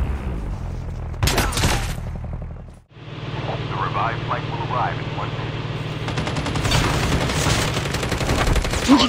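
Gunfire in the Call of Duty Mobile shooter game, with bursts of automatic fire and sharp shots over a steady engine-like drone, with voices talking at times over the fighting.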